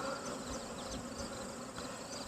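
Honey bees buzz steadily around an open hive during an inspection, a dense, continuous drone that stays close and even throughout with no talk over it.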